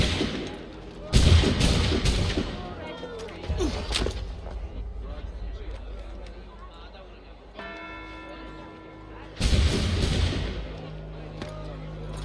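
Assassin's Creed III battle: loud volleys of gunfire and booming artillery crack out in two heavy bursts, separated by quieter rumbling, clatter and a sustained tonal musical note.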